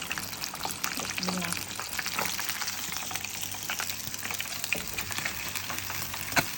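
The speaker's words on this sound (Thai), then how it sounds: "ได้เวลาผัดเครื่องแล้วเนาะ" Curry paste, with shallots added, stir-fried in a pot for a Thai sour curry, a steady close sizzle with scraping stirs throughout, under occasional talk.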